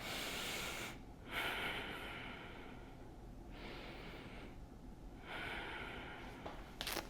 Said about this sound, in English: appreciating that length as I take a few breaths in and out